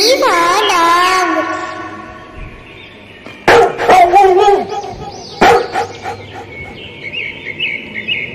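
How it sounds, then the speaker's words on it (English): A dog gives a drawn-out, wavering opening call followed by two sharp barks a couple of seconds apart, with bird-like chirps trailing at the end. "D for dog."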